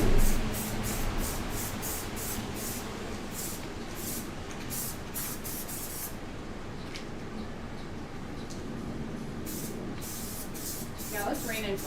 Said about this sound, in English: spray paint the background a similar seafoam color